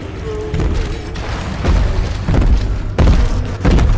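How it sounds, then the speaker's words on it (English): Explosives go off in Bioshock 2 gameplay, a series of four or five deep booming thumps spaced about half a second to a second apart, close and fairly loud. "He's shooting explosives."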